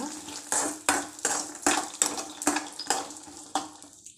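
Peanuts being stirred and dry-roasted in a pan for masala peanuts scrape and rattle in a steady rhythm of about two strokes per second, close and clear.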